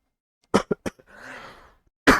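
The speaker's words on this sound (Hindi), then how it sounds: "चलो, खांसी हो गई," A person coughs three times in quick, sharp bursts, followed by a softer breathy rasp and a final loud cough, close to the mic in an otherwise quiet room.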